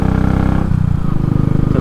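A 2017 Royal Enfield Classic 500 motorcycle rides along a road, its single-cylinder engine thumping in a loud, steady low pulse close up, with wind noise over it.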